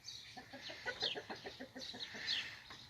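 An injured duck gives a quick run of soft, nasal, whining calls, close by but quiet, with no voices over them.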